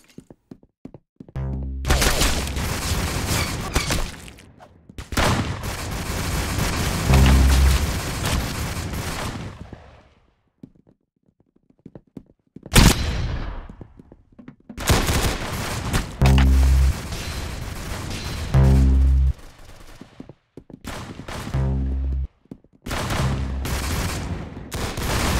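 Gunfire in the video game Arsenal comes in long rapid bursts of loud shots, broken by short silences and a few single booms, all close and with no talking.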